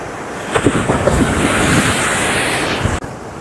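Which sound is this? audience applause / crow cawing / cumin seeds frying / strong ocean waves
strong ocean waves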